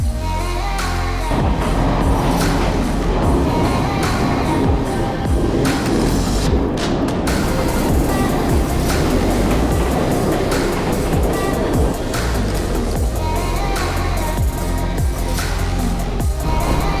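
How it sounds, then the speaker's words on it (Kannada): A train rolls through Sri Lanka's hill country on the Kandy route, near tunnels, with a loud, continuous rumble and rattle that stays steady throughout, without a break. "ಇಲ್ಲಿಂದ ತುಂಬಾ ದೊಡ್ಡ ದೊಡ್ಡ ಟನಲ್ಸ್ ಮಧ್ಯ ಟ್ರೈನ್ ಹೋಗುತ್ತೆ"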